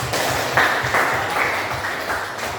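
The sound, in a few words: classroom applause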